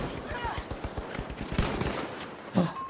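Rapid gunfire from an automated turret in the arena shooter The Finals, a dense burst of sharp shots layered under a busy game mix, with a louder crack near the end.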